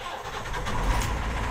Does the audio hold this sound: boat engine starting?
yes